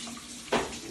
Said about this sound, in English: turn on the water